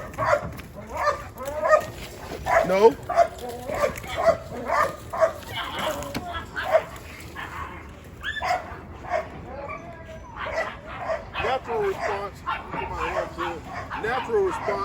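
A young puppy just let out of its kennel barks, yips and whimpers in quick, excited bursts close by, while a person talks over the noise.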